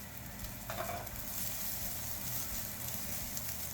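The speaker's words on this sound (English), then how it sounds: "Just let that sear up nicely, brown up." Asparagus searing in butter in a hot pan sizzles loudly and steadily up close, a constant crackling hiss with faint stirring and no talk.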